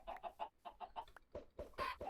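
Chickens in the video game Oh my cube give short, rapid clucks in quick bursts, close and clear with brief pauses between groups.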